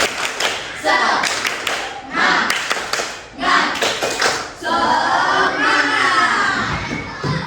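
Schoolchildren in a classroom perform the rhythmic tepuk semangat spirit clap, bursts of patterned clapping broken by loud shouted chants and a long cheering yell at the end, all close and energetic.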